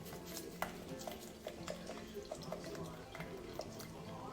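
Almond milk is poured over chia seeds, then the mix is stirred with a utensil, giving soft, quiet clinks and scrapes against the container at an uneven rhythm.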